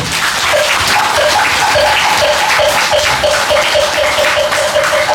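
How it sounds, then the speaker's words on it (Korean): An audience applauds a film director at a Buddhist training center gathering in Yeongwol, Gangwon Province, with dense steady clapping filling the room and a faint tonal hum running beneath it. "박수 한번 쳐주십시오."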